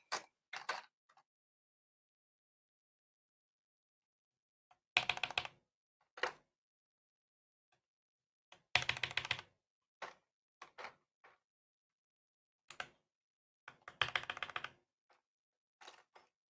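Keys tapped on a newly built mechanical keyboard, sparse clusters of crisp clicks and clacks separated by silent pauses, close and clear with no talking.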